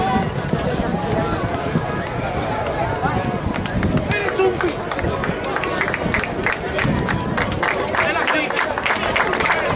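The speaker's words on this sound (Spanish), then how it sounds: "Un fuerte aplauso." A crowd claps at a trophy presentation for a beach handball tournament in Moaña, the applause dense and steady throughout, with a voice speaking over it.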